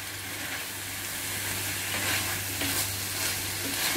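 Sausage and spaghetti sauce mixture with seasoning cooks in a pan while being stirred, a loud continuous hiss and sizzle with gentle scraping beneath it.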